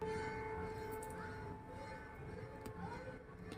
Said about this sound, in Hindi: यहाँ पे मंदिर में आरती हो रही है और आरती के समय जो शंखनाद हो रहा है